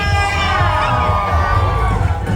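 A large crowd at an employees' parade in Pasig cheers and shouts together in one loud sustained roar, voices rising and blending with high-pitched yells.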